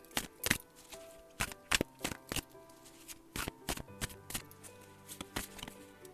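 Tarot and oracle cards shuffled by hand, a quiet series of crisp riffling bursts and soft slaps coming in irregular clusters, close and intimate.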